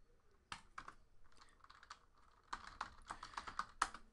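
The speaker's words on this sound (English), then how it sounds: "And we'll type in the hits." Fingers tapping a computer keyboard, bursts of crisp, close keystrokes with short pauses, faster and denser in the second half, with no talk.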